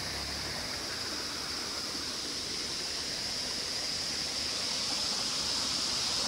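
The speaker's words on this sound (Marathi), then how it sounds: "इकडे मस्त असतं यार, झरण्याचं पाणी येतं." Spring water runs steadily in a mountain stream beside a trekking route, a continuous broad rushing hiss that holds even and close for the whole stretch, with no voices over it.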